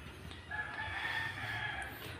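A Rhode Island Red rooster on a farm crows once in a drawn-out call lasting about two seconds, fairly close and clear over quiet background.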